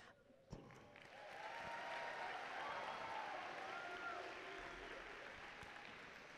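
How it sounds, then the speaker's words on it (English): Applause from a crowd at a school opening ceremony, a sustained distant wash of clapping that swells quickly after a sharp initial clap and holds steady in a large reverberant space. "get ready for another round of applause for our season sponsor"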